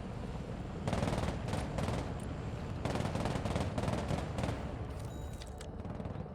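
Marines fire in the military video game Broken Arrow, with sustained machine-gun bursts and rattling fusillades that rise and fall in dense waves over a constant roar of battle.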